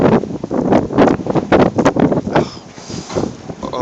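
Strong, freezing wind roars and buffets the microphone during a snowstorm in Barrow, Alaska, a loud, gusty rush that swells and fades with no talking.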